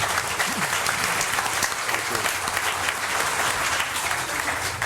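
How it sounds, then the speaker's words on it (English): Sustained audience applause in a city commission chamber, a thick, even wash of many hands clapping for about five seconds, loud and unbroken, no talk on top. "let's give them another round of applause"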